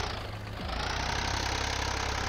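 A Ford farm tractor engine runs in a field in Punjab, a close, loud, rapid diesel knock throbbing steadily for a couple of seconds, picking up slightly partway through.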